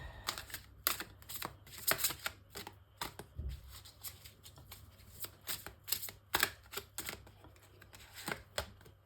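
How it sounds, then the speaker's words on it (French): Guardian angel tarot cards are shuffled and drawn by hand, giving a quiet run of crisp, irregular riffling flicks and soft slaps, close and alone without talk. "Je prends en premier une carte du tarot des anges gardiens"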